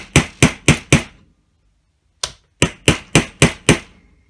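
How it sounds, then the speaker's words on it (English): A hammer strikes a piece into place during a craft project, four sharp evenly spaced taps, a pause, a lone tap, then six more in a steady rhythm, close and loud with no talk. "I don't think you guys are going to have hammers, but I'm going to use this for the sake of just putting it in."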